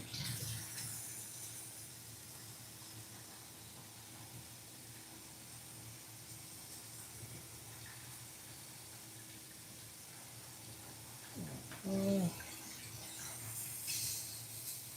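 Faint running water from a tap or sink rinses out painting equipment used on an RC10 model car, a soft steady wash with a brief clatter and louder splash near the end.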